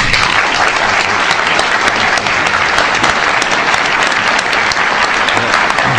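An audience bursts into sustained, loud applause welcoming a speaker to the stage at a lecture on apartheid in South Africa and Palestine, dense clapping filling the hall steadily throughout.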